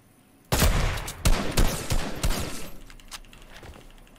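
Fortnite gunfire starts abruptly after a short quiet moment. A loud cluster of shots and impacts crackles for about two seconds, then thins out into scattered, fainter reports.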